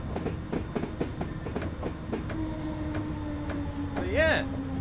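District Line underground train running in Train Simulator 2019, with rhythmic clickety-clack wheel beats, a steady rolling rumble and a rising whine near the end, close and continuous.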